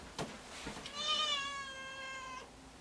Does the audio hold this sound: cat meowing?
yes